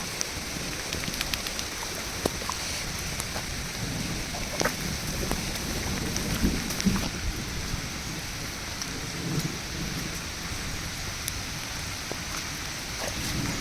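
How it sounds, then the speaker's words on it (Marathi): Heavy rain hisses down in a constant, close wash over Konkan finger millet fields, with scattered drips and spatters standing out; no one speaks. "पाऊस मात्र जोरात आला"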